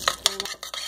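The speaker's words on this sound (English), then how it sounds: "Stir the cheese." A spoon stirs macaroni and cheese in a pot, giving several quick close clinks and scrapes in an uneven rhythm over under a second.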